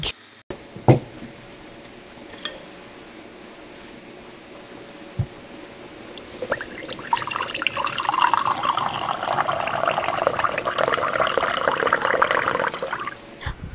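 Water pours steadily into a container, a continuous splashing trickle that grows fuller and louder after a few quiet seconds with light clinks, while preparing water to boil for a French press.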